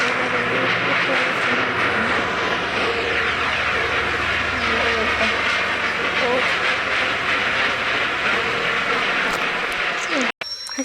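A train rumbles steadily past, a loud continuous roar of wheels and rail noise with rhythmic clatter throughout, cutting off abruptly near the end; voices can be heard under the noise.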